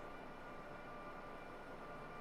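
A train on the Riesa-Dresden line in a train simulator game, with a steady, faint rumbling drone and tonal hum holding constant throughout, no distinct events.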